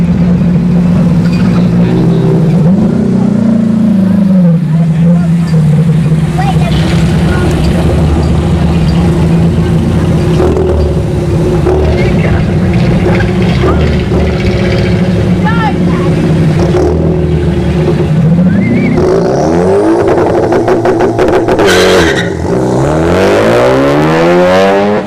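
A Ford Focus at a drag strip test-and-tune session holds a loud, sustained engine drone that builds into rising revs near the end, with a voice talking over it.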